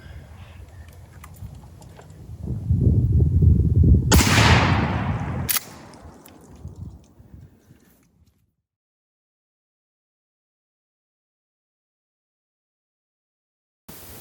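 A Remington 870 Express 20 gauge shotgun fires a single loud blast at an outdoor range, a sharp crack with a brief trailing echo that rings out over rumbling background noise, then dies away into near silence.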